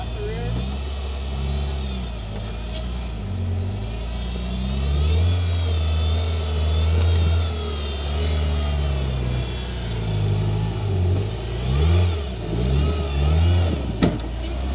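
An off-road Pathmaker rig with a Dana 300 transfer case is driven along, its engine droning and surging as a steady low rumble from inside the vehicle while people talk over it.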